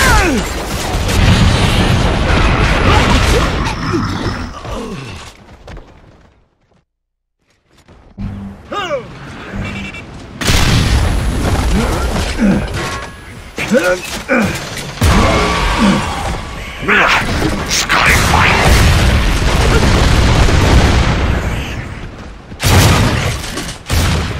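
Frag grenade blasts and chaotic gunfire in a shooter video game, loud and dense, with a brief near-silent gap before heavy booms and debris resume over the rest of the stretch.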